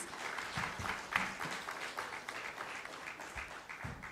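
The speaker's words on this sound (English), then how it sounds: "Let's give a round of applause to our speakers for their valuable contributions." Audience at an infrastructure summit hall applauding the speakers, a fairly quiet, uneven patter of clapping from a modest crowd, fluctuating in strength for a few seconds.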